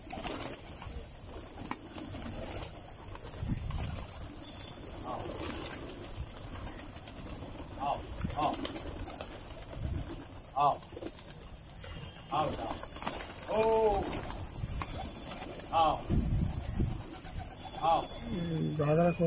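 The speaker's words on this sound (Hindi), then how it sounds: "तीन कबूतर बैठे हुए हैं।" Pigeons being caught in Okhla, Zakir Nagar, coo in short, soft bursts that grow more frequent toward the end, under ongoing talk and scattered clattering.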